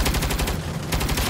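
Turret machine gun fires in the Saints Row video game, a dense continuous rattle of rapid shots that stays loud and close throughout, with no voices.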